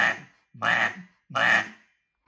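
A duck call is blown quietly, giving three short, raspy quacks with even gaps between them, close and clear with no talk over them.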